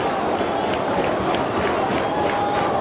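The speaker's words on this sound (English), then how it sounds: "I can't hear over this crowd" A dense wrestling arena crowd roars and cheers continuously during a title match, a loud, sustained wash of voices and scattered clapping with no clear breaks.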